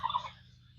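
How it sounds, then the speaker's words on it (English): A turkey on a farm lets out a short, faint gobble at a distance, a quick warbling burst that fades out within a second. "We have, of course, the turkey."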